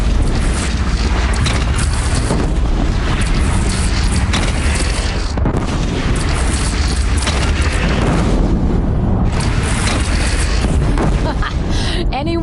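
In the Horizon Zero Dawn video game, a cannon fires and explodes in heavy, continuous booms amid loud battle noise, with voices talking over the barrage.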